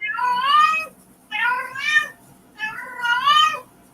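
A feral cat meows three times in a row, each call a clear, drawn-out wavering cry with short pauses between, close and loud over quiet background.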